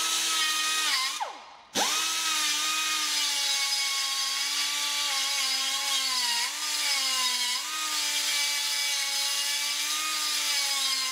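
The end of an end mill bit is ground off in a workshop, a steady high-pitched grinding whine that dips sharply once under load, recovers, then wavers slightly as pressure shifts.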